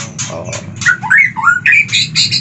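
A white-rumped shama sings a varied run of whistled, warbling phrases, fairly close and clear, over a steady low background hum.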